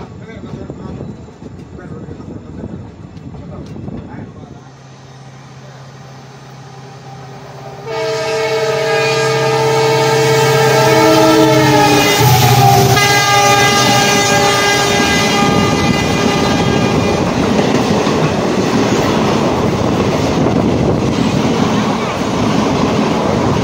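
Heard from on board the Nandigram Express near Usmanpur, the horn blares loudly for several seconds at a level crossing, layered over steady running noise. Before the horn the ride is quieter and voices talk.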